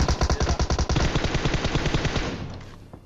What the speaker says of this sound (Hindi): पीछे कहीं से गोलियां चल रही हैं, वो भी धैड़ पैड़ पूरी जान लगा के